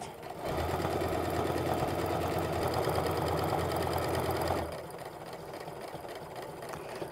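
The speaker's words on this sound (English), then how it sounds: "I've set my sewing machine to sew an 1/8 of an inch stitch" A sewing machine runs steadily for about four seconds with a rapid mechanical whir, stitching around the edge of a fabric apron, then stops, leaving quiet room noise.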